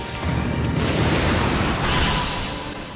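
A Wind Style Air Bullets jutsu in the Naruto X Boruto Storm Connections video game, fired during a boss fight against a giant toad, comes as a loud, sustained roaring blast with a whooshing rush lasting about three seconds.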